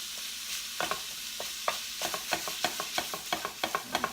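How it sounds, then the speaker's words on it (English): Sweet Italian sausage sizzles steadily in a hot pan while a utensil breaks it up, tapping and scraping in quick, regular strokes up close, with no voices. "and I've got my sweet Italian sausage in here. We're just going to kind of break that up in the pan."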